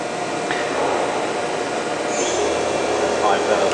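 A 2014 Kitamura Mycenter 3XD machining center with a 40-taper spindle turning at 3,000 RPM gives a steady, fairly quiet whirring hum, with a thin high whine rising briefly partway through.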